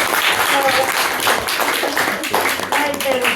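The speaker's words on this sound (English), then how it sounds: "I'd say that needs another round of applause because it is absolutely gorgeous." An audience at a folk music performance applauds after a song, dense clapping throughout, with someone talking over the clapping.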